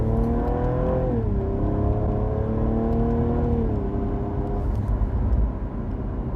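A Cadillac ATS-V sedan with a twin-turbo V6 engine at half throttle, a loud, steady in-cabin engine drone whose pitch rises and dips through gear changes while driving.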